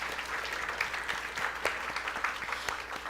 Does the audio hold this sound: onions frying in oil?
no